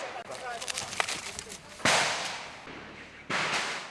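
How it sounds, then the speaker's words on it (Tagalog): Sharp cracks of gunfire ring out during an armed clash in Basilan, Philippines, a quick volley early on and then two louder single reports that echo and decay. "Matindi ang palitan ng mga putok."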